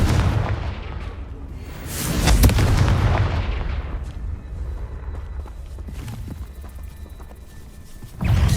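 Confringo blasting curse explosions from Hogwarts Legacy: a heavy, booming burst near the middle and another sudden blast at the end, with a rumbling fiery tail and scattered crackles between them.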